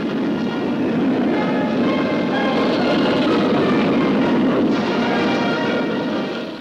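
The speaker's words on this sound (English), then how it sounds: "Significantly, overhead flew 10 long-range Tu-95s, capable of delivering a nuclear bomb all the way to America." Ten Soviet Tu-95 long-range bombers pass overhead in a low, heavy rumbling roar, sustained and loud throughout, swelling slightly in the middle and easing toward the end.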